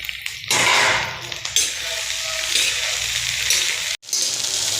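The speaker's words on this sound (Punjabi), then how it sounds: "ਭਿੰਡੀਆਂ ਆਪਣੀਆਂ ਭੁੰਨਣ ਲੱਗ ਗਈਆਂ" Okra and onions fry in a pan, a loud, steady sizzle with bursts of crackling and occasional stirring scrapes, close up with no talk.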